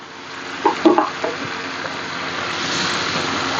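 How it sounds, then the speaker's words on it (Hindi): Fried radish koftas drop into a pan of hot masala, a few soft plops followed by a steady, close sizzling and frying hiss that rises slightly toward the end. "तो हम इसमें कोफ्ते अपने फ्राई किए हुए डाल देते हैं"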